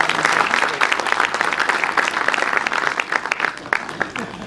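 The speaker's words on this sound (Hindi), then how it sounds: "तो एक बार जोरदार तालियां करते हैं।" A crowd at a public stage event with local politicians bursts into loud, dense clapping that stays steady throughout with a few voices underneath.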